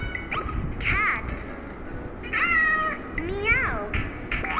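A domestic cat meows three times in separate rising-and-falling calls, fairly close and clear, with a faint background hiss between them.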